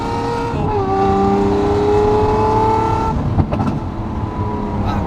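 Loud, close V12 supercar engine howling steadily at high revs, its pitch rising and falling, then a brief crackle and a shift before the roar carries on without break.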